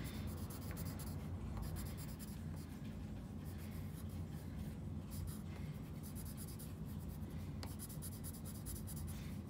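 Pencil sketching a yellowjacket grid drawing on paper, a steady scratchy scraping of strokes that runs continuously for several seconds, close and soft, with no talk.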